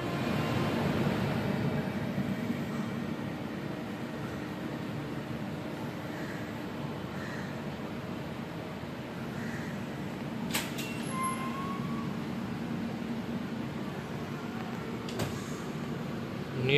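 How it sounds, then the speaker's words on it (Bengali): The Dhauli SF Express pulls out of Puri station, heard from on board as a steady low rumble and hum with a few faint clicks and squeaks. "আমাদের ট্রেন ছাড়লো পুরী স্টেশন থেকে তার গন্তব্যের উদ্দেশ্যে"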